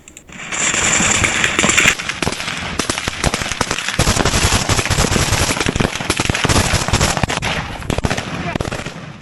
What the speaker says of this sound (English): The Loyalist automatic grenade launcher opens up with defensive fire